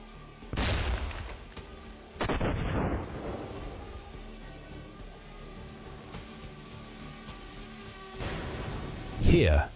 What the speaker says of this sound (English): A strong explosion leaves only metal fragments of the tank.